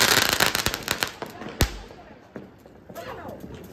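Diwali firecrackers going off outdoors: a rapid run of sharp cracks, then one loud nearby bang with a low thump, followed by scattered lighter pops, with people's voices in the background.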